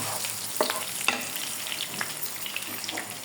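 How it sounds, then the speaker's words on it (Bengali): Eggs and potatoes lightly frying in a pan for khichuri, a steady close sizzle broken by a few sharp spatula scrapes and taps, no speech. "ডিম, আলু এগুলিকে একটু হালকা ভাজা দিয়ে দিলে সুন্দর লাল লাল করে"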